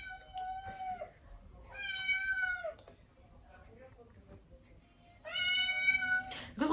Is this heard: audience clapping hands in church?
no